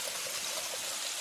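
Chicken being washed in the stream below a waterfall at Channat carries a constant close trickle and gurgle of flowing water, with no voices.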